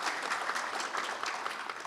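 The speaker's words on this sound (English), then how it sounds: "Can we please have a round of applause for all our speakers?" An audience applauds speakers at the close of a round table discussion on space-sector trade, a dense, steady wash of clapping throughout, loud and close.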